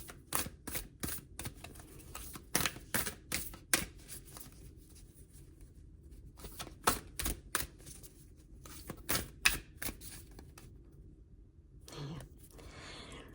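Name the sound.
shuffling and drawing cards for a card reading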